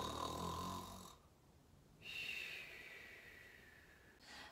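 Santa Claus snores loudly in a barn, with a long rasping inhale followed by a quieter wheezing exhale and the start of another breath, slow and close.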